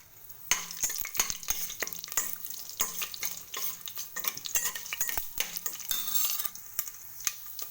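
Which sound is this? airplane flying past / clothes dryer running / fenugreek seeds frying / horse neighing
fenugreek seeds frying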